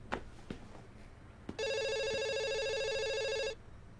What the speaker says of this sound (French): Quelqu'un va répondre au téléphone?